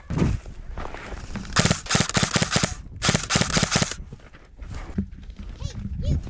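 Airsoft guns fire in rapid bursts during a skirmish inside an abandoned cement factory in Las Vegas, with clattering volleys, pauses between them and some footsteps and movement nearby.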